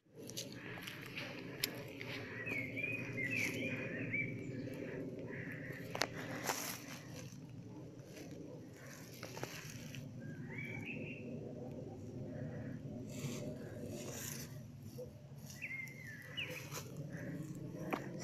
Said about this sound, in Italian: Senti l'uccello.